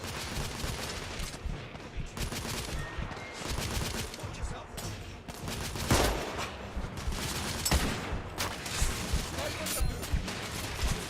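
Repeated carbine rifle shots crack in The Order: 1886, with dense bursts of gunfire scattered across the stretch while someone talks over the shooting.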